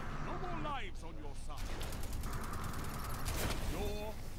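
Heavy, booming gunfire in a video game, ringing out continuously with dense blasts, while voices talk loudly over it.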